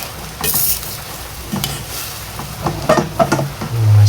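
A utensil stirs carrots and chicken in a frying pan over the stove, scraping and clattering intermittently against the metal over a steady sizzle, close and fairly loud, with a heavier clunk near the end.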